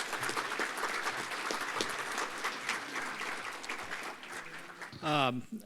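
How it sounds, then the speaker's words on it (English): Audience applause for town staff at a volunteer of the year banquet, a steady wash of clapping through most of the clip, with a voice breaking in near the end. "So if y'all can give them a round of applause, please."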